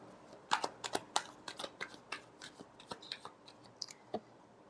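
Tarot cards being shuffled by hand, a quiet close series of crisp riffling snaps and soft taps in irregular bursts, no voices.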